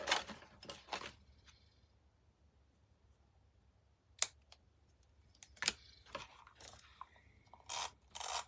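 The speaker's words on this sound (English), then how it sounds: "I'm going to cut it right there in the middle." Scissors snip through paper scraps in a quiet room, a few short, crisp cuts at the start and then more scattered cuts and rustles after a pause.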